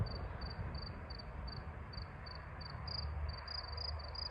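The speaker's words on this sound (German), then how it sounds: "es ist mega schön, das Grillen zirpen" Crickets chirp in a steady, evenly spaced pulse over a low background rumble, moderately faint and continuous throughout, with no voices.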